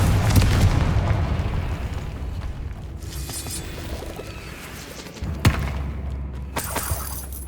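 Confringo blasting spell explosions in Hogwarts Legacy, a loud rumbling boom at the start fading into a low roar, then two sharp cracking bursts near the end, with no talk.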